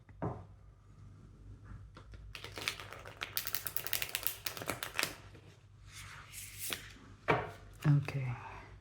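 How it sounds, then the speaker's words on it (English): Cards being shuffled and riffled close by, a run of quick crisp flutters and slaps, with a few soft taps and handling noises around them. "I'm just going to shuffle in order to get some reverse cards as well."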